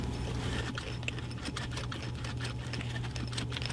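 A sewing machine slowly stitches a chest rig, its needle worked by the hand wheel, giving soft irregular ticks and taps over a steady low motor hum.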